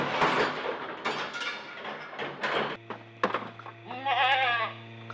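Goats on a dairy farm bleat nearby, with a loud wavering bleat near the end following a mix of barn clatter and animal calls, with no talking over them.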